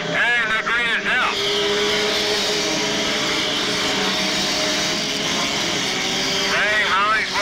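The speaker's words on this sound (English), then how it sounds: "Scramble cars has taken the track here at the TW," Scramble cars racing around a speedway oval, engines droning steadily at a distance with a couple of passing whines rising and falling, under continuous commentary.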